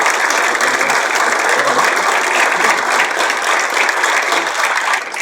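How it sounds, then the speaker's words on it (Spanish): Loud, dense applause from the audience at the close of a talk on climbing Monte Sarmiento, many hands clapping evenly and continuously with no break, tapering only slightly at the very end. "Un aplauso"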